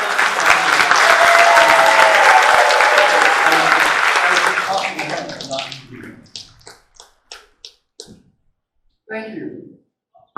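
Audience applause at an event, loud sustained clapping that fades out into scattered final claps, followed by a voice speaking.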